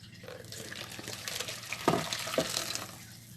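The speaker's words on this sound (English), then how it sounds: "So I'm going to pour it here and rinse it." Water poured over parboiled meat to rinse it, a steady running, splashing flow close by, loud and continuous, with no voices.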